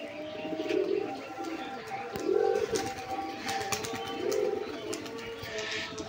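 Giribaz pigeons coo nearby in a slow, repeating rhythm of soft, throaty swells, with faint chirps and rustling in the background.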